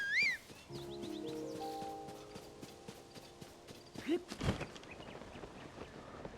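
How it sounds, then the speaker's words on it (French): Horse in Zelda: Tears of the Kingdom gives steady hoof clip-clops over a game music bed, with a short whinny near the start and a louder burst of movement around the fourth second. "Oui, mon cheval."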